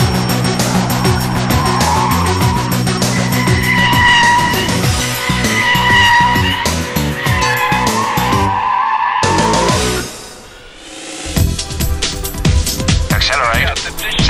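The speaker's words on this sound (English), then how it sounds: "This swerving out and then back in is pretty hairy, especially if you do it without ESP, and then the car really breaks away." A car without ESP swerves out and back in on a circuit, its engine roaring loud and close as the tires skid and squeal through the turn, with a brief drop before the noise builds again.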